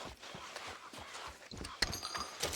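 Horse hooves clopping closer in Red Dead Redemption 2, a run of soft, fairly close beats with faint rustling around them and no talk.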